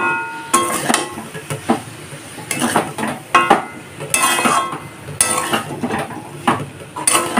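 Spoon scraping and clinking against a pan as boiled soybean curry is stirred and mixed over low flame, in repeated bursts with short pauses between, near and fairly loud.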